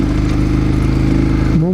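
A big heavy dual sport adventure motorcycle riding through desert, its engine droning loud and steady close by with a brief pitch change at the end.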